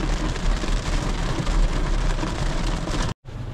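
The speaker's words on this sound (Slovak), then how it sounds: "Prší." Steady rain patters on a surface during a road trip through Missouri and Kansas, a dense continuous hiss with low rumble, cutting out abruptly for a moment near the end before resuming.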